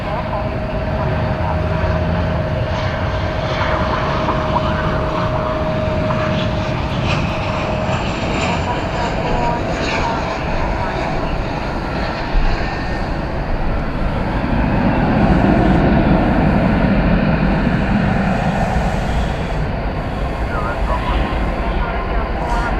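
A jet airliner at DFW Airport pushes back, its engines whining and rumbling steadily at moderate distance, swelling somewhat toward the end, while people talk intermittently over it.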